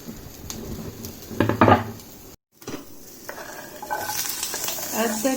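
Paneer cubes browning in a kadai, with spatula scrapes and stirring clatter over a crackling sizzle, a brief cut of silence midway, then the frying picks up again and swells toward the end.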